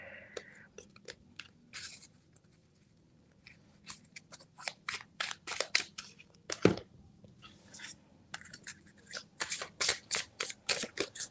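Tarot cards are gathered and shuffled close up, a run of soft crisp riffles and slides, sparse at first and then denser and louder, with faint whispered talk.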